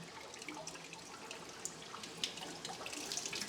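Water spilling and splashing while a BioCube aquarium is drained and broken down, a continuous close trickling and pouring with small drips, no talking.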